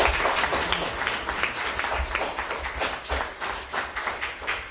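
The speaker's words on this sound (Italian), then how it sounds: "merita un applauso" Applause from an audience at an Italian community gathering, a scattered round of hand claps holding steady for several seconds with a few louder taps and thuds mixed in, fairly close and with no talk over it.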